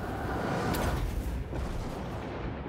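Rumbling battle explosions from the strategy game Total War: Warhammer 2, a dense continuous roar of blasts and crackling impacts with no clear gaps, loud and sustained throughout.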